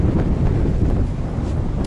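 Strong wind in the taiga buffets the microphone with a loud, continuous low roar and rumble, steady throughout with no voices.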